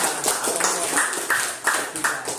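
A small group of students claps in a classroom, a short patter of hand claps with a few louder accents, fairly close and under light background noise.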